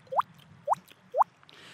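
A voice imitates water drops in a hole, three evenly spaced, crisp rising plops, close and clear, followed by a faint hiss at the end.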